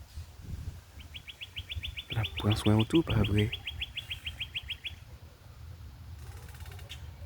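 Songbirds chirp outdoors in rapid, repeated high trills, near and clear, over a brief stretch of someone speaking.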